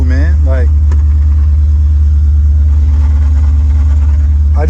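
A Monte Carlo's engine rumbles loud and steady at idle, a deep continuous drone close to the microphone, with a voice talking briefly over it at the start and end.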